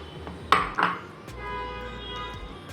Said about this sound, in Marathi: चला तर मग आता हे आपण कापून घेऊ